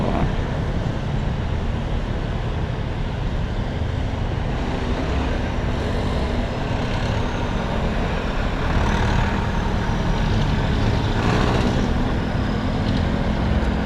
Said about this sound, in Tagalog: Traffic talaga oh.